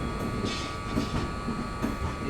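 A train rolling at Jabalpur station, a brief steady rumble with soft rhythmic wheel clatter, moderately loud and without speech.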